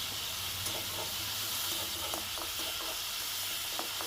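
Tomato and masala roasting in a pan for a dhaba-style egg curry, a steady close sizzle and hiss with faint stirring scrapes, no talk.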